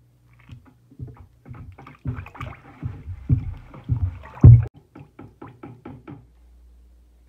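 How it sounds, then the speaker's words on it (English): A tulip bowl scrubber stirs ceramic glaze in a dipping bucket, producing a run of close, rhythmic knocking and sloshing strokes against the bucket walls with no speech. "I always start with a good mix with my tulip bowl scrubber"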